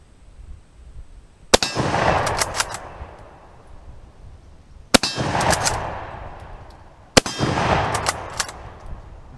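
A refurbished Mosin rifle fires three sharp, loud reports a few seconds apart, each followed by a long outdoor echo and a quick run of metallic clacks as the bolt is worked.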